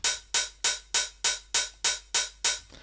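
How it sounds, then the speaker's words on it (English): Open hi-hat struck in a steady run of nine even hits, each bright, hissy decay swelling briefly with an automated return-track send, loud and alone with no voices. "And that's literally everything to get an open hat like this."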